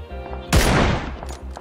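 A single loud gunshot in PUBG cracks out sharply over a low background hum, then fades into a short decaying echo.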